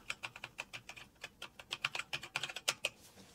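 An NTP server address being typed on a computer keyboard, with a quick, uneven run of crisp, close key clicks that speeds up toward the end, fairly quiet and with no voice.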